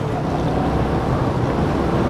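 Steady rushing wash of water sprayed from a truck onto a road, a dense broadband hiss heard up close and continuous without pause.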